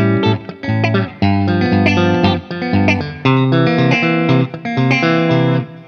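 A Les Paul style electric guitar on the middle pickup, boosted, plays a series of bright, sustained chords and notes with a slightly distorted, chorused tone, loud and close, with brief gaps between phrases.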